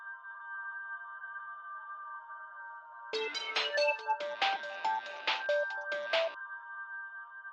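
A phone call's ringing tone plays as a short electronic melody of repeated beeping notes in a burst, following a steady hum-like tone, fairly quiet with no talking.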